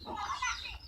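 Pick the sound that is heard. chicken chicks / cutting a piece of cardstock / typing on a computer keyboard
chicken chicks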